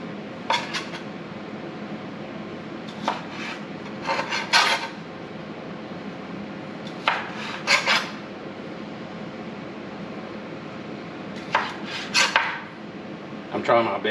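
Knife work while cooking red beans and rice: a few short bursts of scraping and tapping against a board or pan, spaced irregularly over a steady low kitchen background, with no talking.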